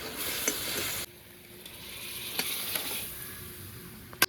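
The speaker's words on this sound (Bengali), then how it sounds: "এবার জিরে বাটাটা দিয়ে ভালো করে মিশিয়ে এবার নামিয়ে নেব" Curry being stirred in a pan on a stove as cumin paste is mixed in, a steady close sizzle with scraping stir strokes and a few sharp clinks of the spoon against the pan.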